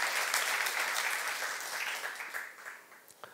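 A church congregation applauds during a youth service sermon, a dense burst of clapping that gradually thins and fades toward the end.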